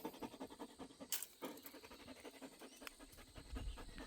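Dog panting steadily outdoors during bamboo gathering, quick rhythmic breaths close by and fairly quiet, with a soft low thump near the end.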